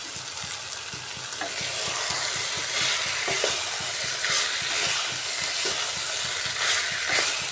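Chicken, boiled chickpeas and potato being stir-fried in a pan, a continuous sizzle broken by regular scraping and tapping strokes of a spatula, close and fairly loud, with no voices.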